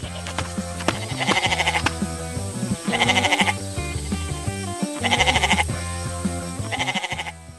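White goat behind a wooden fence on a farm, bleating in four loud bursts spaced about two seconds apart over a steady background, with no talk.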